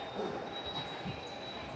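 A subway train rumbles steadily on its tracks with a constant mechanical hum and a faint high whine, heard from inside the car.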